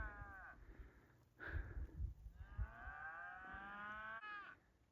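Cattle lowing near a backcountry campsite in the Eastern Sierra alpine lake country, with a long drawn-out moo, a short call, then a sustained bellow, fairly loud over faint outdoor background.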